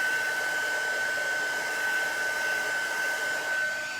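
A hair dryer-style heat tool drying chalk paste on a craft project runs as a steady, loud, continuous whir with a constant high whine, close by and uninterrupted, with no talking.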